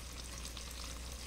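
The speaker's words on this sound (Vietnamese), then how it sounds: "Ủa nãy giờ ông chiên đó hả?" Food frying in a pot over a fire gives a steady, dense sizzle with no gaps, soft and unbroken throughout, with no voices.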